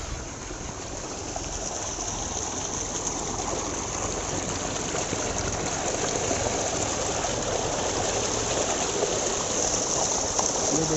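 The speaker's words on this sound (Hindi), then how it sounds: "जो ट्वेल का ताज़ा पानी है," Fresh tubewell water pours and gushes steadily in a village setting, a continuous loud rushing flow heard close by, with no one speaking.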